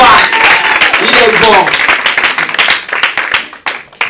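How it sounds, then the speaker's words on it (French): Church congregation breaks into loud applause and cheering, with shouting voices over the clapping at first, then the clapping turns to scattered, distinct claps that fade out. "Est-ce qu'on peut donner un bon main d'acclamation?"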